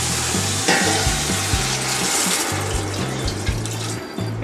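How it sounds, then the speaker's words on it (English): Water poured into a pot of sizzling beef during cooking, a steady hiss and bubbling crackle with a brief splash as the water goes in, with low rhythmic kitchen noise beneath and no talking. "So I'm gonna add the water."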